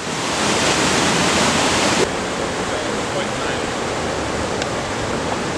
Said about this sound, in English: Kayak in the rapids.